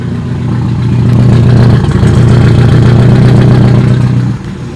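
A Honda/Acura car engine with a coil-on-plug conversion idles loudly with no muffler fitted, giving a steady, deep rumble close by that cuts off abruptly near the end.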